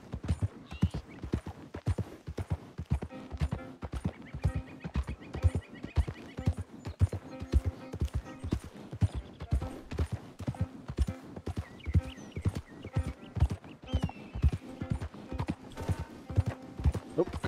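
A horse gallops in the video game Red Dead Redemption, with a steady, rapid clip-clop of hooves throughout and occasional faint game sounds beneath.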